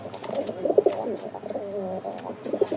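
Pigeons kept in small cages at a seller's loft in Mirpur, Dhaka, coo in repeated low, throaty phrases close by, with soft rustling between calls and no talking.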